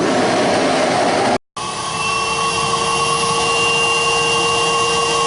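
A Nybakke 80th Anniversary all-metal canister vacuum cleaner with a two-fan motor runs close and loud, a steady roaring whine with a brief cutout near the start before it resumes.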